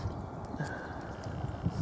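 Horses on a farm alongside sheep and a cow, with faint, distant hoof clip-clops at an irregular pace over quiet outdoor ambience and no talking.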